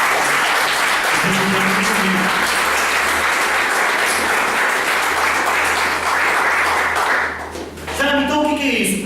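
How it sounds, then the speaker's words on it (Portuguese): A church congregation applauds, loud and sustained, with a few voices rising through the clapping before it briefly dips and swells again near the end. "Você pode aplaudir o Senhor?"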